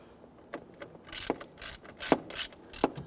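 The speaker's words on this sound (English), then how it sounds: "Let's go ahead and tighten down those bolts." A ratchet tightens bolts on the turn signal combination lever of a 1994-2004 Ford Mustang, giving bursts of quick clicking in a steady back-and-forth rhythm, close and fairly quiet.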